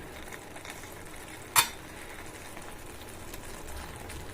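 Prawn thokku frying in oil in a home kitchen gives a faint, steady sizzle, broken once by a sharp utensil clink.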